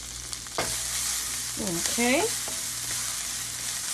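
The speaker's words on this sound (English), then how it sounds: "we're just gonna add our kale directly in there and let it start sauteing down" Kale sautéing in olive oil in a pan makes a steady broadband sizzle with stirring scrapes, and a short word is spoken partway through.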